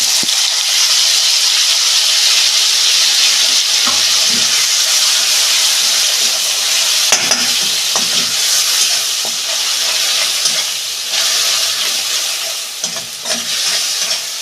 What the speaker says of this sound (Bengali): পেঁয়াজটা দিয়ে আমি একটু কষাবো।